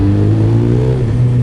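A 2008 Suzuki Hayabusa motorcycle engine running through a large, quieter stock-style exhaust, a close, loud, steady low rumble with a slight rise in revs near the end.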